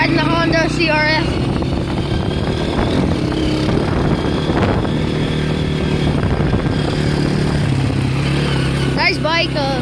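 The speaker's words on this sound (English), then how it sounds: "We're riding the Honda CRF." Honda CRF dirt bike engine droning steadily while riding, close and loud throughout, with voices talking and shouting over it.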